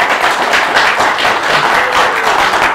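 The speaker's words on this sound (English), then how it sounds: "I'd like to give you all to give a big hand of applause." Audience applause greeting speaker Stephen Fisher at an evening talk on the D-Day armada, a dense, steady wash of many hands clapping throughout at close range and fairly loud, with no voices over it.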